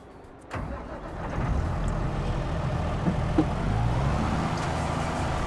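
Vehicle engine in Farming Simulator 22 starts after a short quiet moment, then settles into a steady, loud droning run with slight rises, continuous to the end, no speech.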